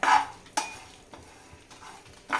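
Poppy seeds and masala roast in a pan for Khandeshi dubuk vade bhaji, with a few sharp scraping stirs of a spoon over a faint dry sizzle, close and without talk.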